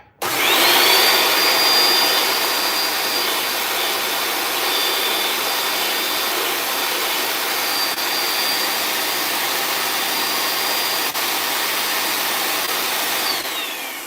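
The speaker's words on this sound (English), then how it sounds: "So I'm testing the suction right here. I want to test my motor suction" A Bissell 2X vacuum cleaner motor runs during a suction test, a loud steady whining roar that starts abruptly and holds for well over ten seconds before cutting off, close and without talk.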